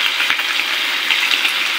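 Seafood going into a pan of butter sauce for butter shrimp and mussels, giving a steady, close hiss and sizzle of frying with no voices.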